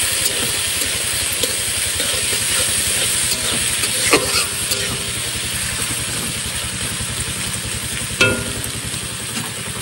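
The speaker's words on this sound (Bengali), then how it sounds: "এবার মশলাটাকে সুন্দর করে ফ্রাই করে দেবো।" Ginger, garlic, green chilli and onion spice paste frying in a pan, a steady close sizzle and hiss throughout with occasional stirring scrapes and small pops, no talking.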